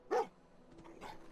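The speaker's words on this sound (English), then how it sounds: "Oh, it's a dog. It's the dog meat." A dog in the Fallout 4 video game gives a single sharp bark near the start, followed by quieter low rustling and soft game noise.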